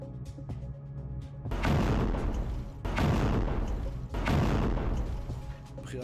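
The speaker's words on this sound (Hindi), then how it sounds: "वहीं सफद के ऊपर भी धमाके सुने गए।" Explosions over Safed in northern Israel during a Hezbollah attack: three heavy, booming blasts in quick succession, each rumbling and fading before the next, loud against a quieter background.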